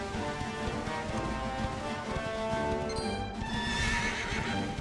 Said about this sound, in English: Let me get my horse out.